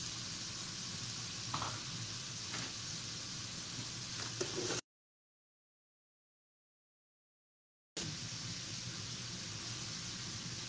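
Onions sauté in a pan for a cabbage and kale braise, giving a steady, faint sizzle with no voices, cut by a silent gap of about three seconds midway.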